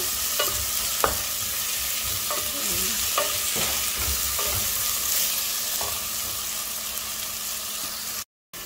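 Onion and tomato frying for sambar, a lentil curry, with steady sizzling and repeated spoon or spatula scrapes against the pan at irregular intervals, close and fairly loud with no talking.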